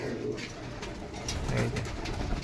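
Pigeons of several breeds, including Pakistani and Giribaz birds, kept at a home loft, cooing in low repeated throaty calls that overlap steadily throughout, close and clear.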